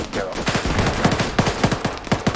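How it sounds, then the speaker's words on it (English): Rapid bursts of automatic gunfire in a video game crackle in quick rhythmic volleys, dense and fairly close, with faint voices mixed underneath. "Hearing a lot of gunfire around here."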